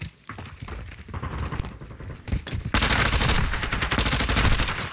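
Rapid automatic gunfire crackles in a Call of Duty match, starting as scattered bursts and building into a dense, loud, continuous barrage during the second half.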